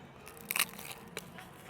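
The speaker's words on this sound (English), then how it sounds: "It's hard to eat because it's like a crunchy tortilla underneath there." A bite into a crunchy tortilla dish from the Mexican pavilion at Epcot's International Food and Wine Festival gives two sharp, close crunches, one bigger than the other, with faint chewing noise between them.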